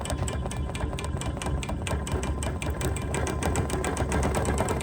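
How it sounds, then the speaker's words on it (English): A sewing machine stitches stippling into a small quilt with a fast, steady, close mechanical rattle of needle strokes that holds a dense rhythm throughout and is free of talk. "now I'm just gonna do some simple stippling"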